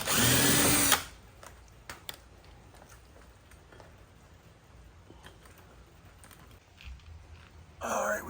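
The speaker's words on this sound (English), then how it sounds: "So I should just drill the rest of them." Power drill boring holes in the rear of a car, with a loud whine for about a second at the start, quiet handling sounds between, and another burst at the end.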